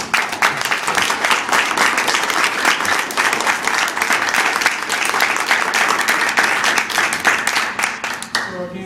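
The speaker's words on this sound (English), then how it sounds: "I think these two guys should have a round of applause." A crowd applauds after a speech, dense and loud clapping continuing steadily for nearly nine seconds before dropping off abruptly.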